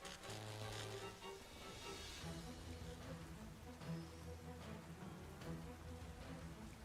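Steady rain effect from an active Rain weather condition in a Pokémon video game battle, a continuous hiss of falling drops running beneath looping game music throughout.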